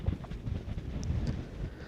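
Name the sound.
wind blowing over white sand desert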